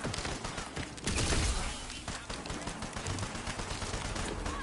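Gunfire in Tiny Tina's Wonderlands, a steady stream of rapid shots with battle noise, dense and moderately loud throughout, a heavier burst near the middle.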